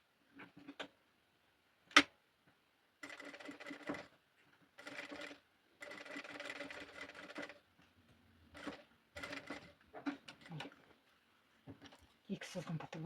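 A sewing machine stitches fabric pieces for a flamingo toy in short bursts of fast mechanical whirring, separated by pauses and a single sharp click, close and fairly quiet.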